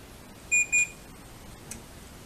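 A Samsung split air conditioner gives two short, clear electronic beeps close by as it switches on, followed by a quiet room.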